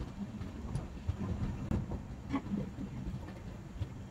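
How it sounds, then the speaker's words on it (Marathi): A Konkan Railway passenger train pulls out of Roha station at night, heard from inside as a low, steady rumble with scattered soft clanks and rattles of the carriages. "ट्रेन आता रोहा स्टेशनवरूनही सुटली आहे"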